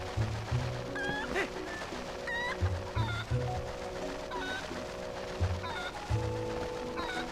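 A cucco in The Legend of Zelda: Twilight Princess HD clucks in short repeated bursts and squawks, loud and close, over steady background game music.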